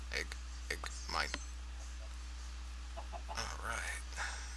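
Chickens clucking in the video game Minecraft, several short sharp clucks in bursts near the start and again toward the end, over a steady low hum.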